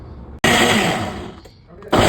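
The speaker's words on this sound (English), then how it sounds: "It is time to blend our ripe plantain. I'll go ahead and start blending." A blender purees ripe plantain in a loud, steady whir that starts abruptly, runs close and strong for about a second and a half, dips briefly, then surges again at the end.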